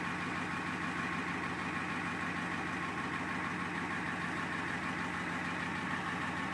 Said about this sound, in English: you listen to the old truck run though. Runs perfectly.